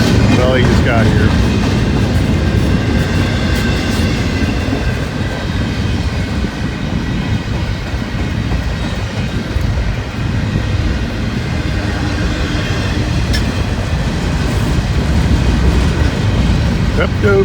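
A long freight train rolls past close by, a loud continuous rumble and rattle of railcars sustained throughout, with occasional faint clanks over the steady roar.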